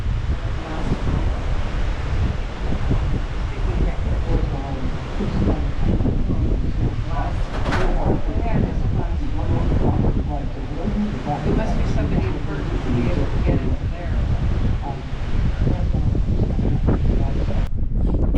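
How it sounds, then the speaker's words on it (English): Strong wind roars across the deck of a scenic cruise boat in Fiordland, New Zealand, a loud continuous buffeting rush of wind noise on the microphone with distant water, lasting throughout. "Now it is too windy out here to hear anything that the commentator is saying"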